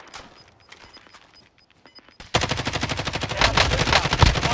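An assault rifle tap-fired in a video game, a dense run of rapid close gunshots that bursts in loudly after a quieter stretch of faint ticks and clicks.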